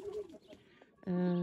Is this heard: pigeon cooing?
yes